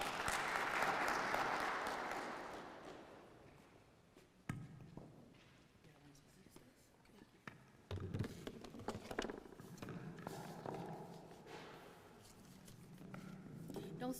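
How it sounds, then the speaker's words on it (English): An audience applauds to welcome a presenter at a presentation event, with a burst of clapping in the first few seconds that fades. Scattered taps, rustles and room noise follow. "Let's give a round of applause to welcome her."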